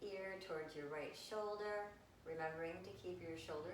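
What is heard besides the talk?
No distinct noise like a dog, phone or traffic.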